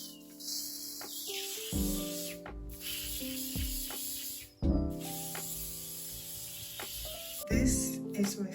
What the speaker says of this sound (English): going to spray it with some olive oil